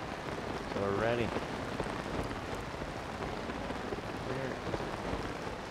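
Steady rain falls in The Legend of Zelda: Tears of the Kingdom, a dense, even hiss of drops, with two brief voiced sounds breaking through on top.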